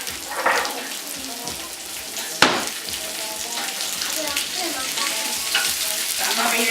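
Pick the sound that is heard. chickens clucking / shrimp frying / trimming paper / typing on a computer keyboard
shrimp frying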